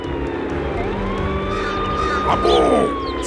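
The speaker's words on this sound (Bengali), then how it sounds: "সাইরেনটা বন্ধ করো।" A police siren wails in a long, slowly gliding tone over the rumble of a vehicle, with a short voice breaking in near the end.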